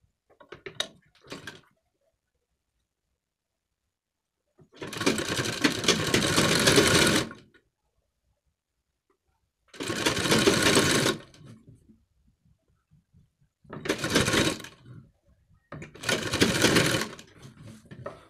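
A sewing machine stitches along the edge of a collar neckline in several separate runs, each a loud, close whirring burst lasting one to three seconds, with near silence between bursts.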